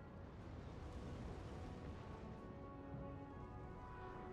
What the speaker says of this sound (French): Les tirs de canon partent